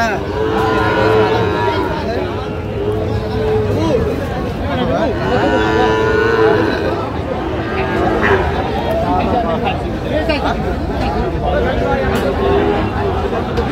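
Sahiwal bull calf at a Narayanganj cattle market, with several drawn-out moos recurring over steady crowd babble and nearby bargaining voices.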